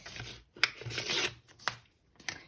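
Scissors or a blade cut through part of a plastic bottle for a craft, producing a few short crisp rasping snips in quick succession, close and quiet, with no voices.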